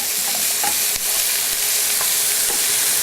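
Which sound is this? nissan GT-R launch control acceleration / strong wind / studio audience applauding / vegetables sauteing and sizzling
vegetables sauteing and sizzling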